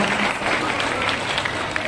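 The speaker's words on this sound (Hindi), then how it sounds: "एक बार हाथ हम सब ताली बजाकर उनका स्वागत करें, सम्मान करें।" Applause welcoming Smriti Irani to the stage at an outdoor political rally in Aamdi, Chhattisgarh: a steady, dense wash of crowd clapping from many hands, fairly loud and unbroken throughout.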